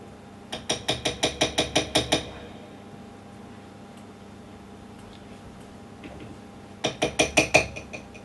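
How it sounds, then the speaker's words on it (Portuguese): Two bursts of rapid metallic hammering, about eight quick strikes each, separated by a long quiet stretch of low hum. "dias e noites a martelar na tal máquina"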